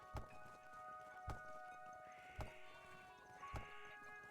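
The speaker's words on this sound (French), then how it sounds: "quand on tape les moutons à la hache, ils sont pas contents." Sheep in the video game Craftopia bleating after being struck with an axe: four sharp thudding hits spaced about a second apart, each followed by tonal, game-like cries, fairly quiet with no talking.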